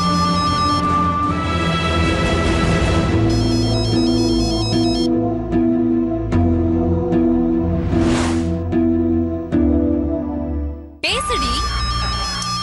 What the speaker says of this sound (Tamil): கதிர் தாண்டி போன் பண்றான்